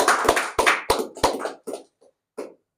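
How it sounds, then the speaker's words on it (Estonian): A few scattered hand claps at a gathering announcing a Tartu mayoral candidate: sharp, separate claps in an uneven rhythm that thin out and trail off into sparse single claps. "teeme talle aplausi."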